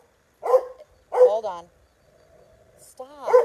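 A dog barks sharply several times at a squirrel outdoors, with whimpering yips between the barks, as a person speaks over it.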